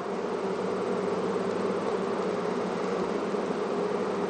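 Honey bees buzz in a dense, continuous drone, with many insects humming together at a steady level close by and no other sounds standing out.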